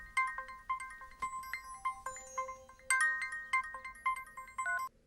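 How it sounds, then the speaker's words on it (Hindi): A mobile phone rings for an incoming call in a Hindi-dubbed South Indian movie scene: a bright, repeating electronic ringtone melody that plays steadily and clearly with no talking over it. "भाभी फोन कर रही है, बात कर।"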